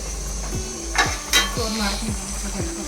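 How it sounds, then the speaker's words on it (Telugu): Chicken curry cooking in a pot, with a soft steady bubbling and simmering bed, repeated scraping stirs of a spoon against the pot, and a couple of brief metallic clinks, heard close without talk. "వేడి వేడిగా చికెన్ కర్రీ ఉడుకుతుంది చక్కగా"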